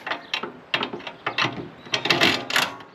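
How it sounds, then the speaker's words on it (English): A saw blade guard being loosened and lowered to sit just above the blade on a Warrior saw, giving a series of short ratcheting, clicking mechanical bursts that come in an irregular rhythm, close by and moderately loud, with no talking. "So I'm just going to loosen this guard and lower it so it's just above"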